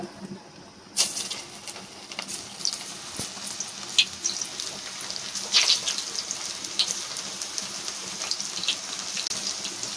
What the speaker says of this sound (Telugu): ఆయిల్ బాగా వేడైన తర్వాత ముందుగా మనం కలిపి పెట్టుకున్నాం కదా దొండకాయ, అవన్నీ వేసేసుకోవాలి